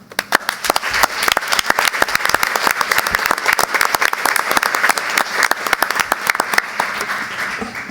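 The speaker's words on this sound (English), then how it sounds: "I just want to take a moment to applaud them." An audience at a school district board of education meeting gives loud, sustained applause for students recognized by Regeneron, dense clapping throughout with no talk.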